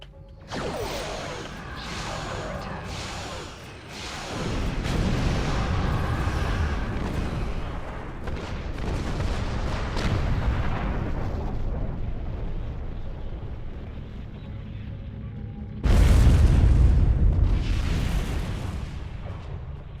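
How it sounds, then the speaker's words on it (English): A starship blows up in the space combat game Star Trek Online, a sudden loud, close blast with a full, rumbling low end that follows a stretch of steady battle noise and then slowly dies away. "That was quite an explosion."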